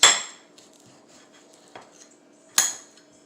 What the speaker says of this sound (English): Alright, so got the knife, and we are going to cut this open.